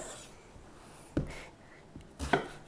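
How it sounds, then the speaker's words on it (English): A kitchen knife chops vegetables into chunks on a cutting board for a summer ratatouille, a few sparse, soft thuds against the board over a quiet background. "So just cut these into thirds"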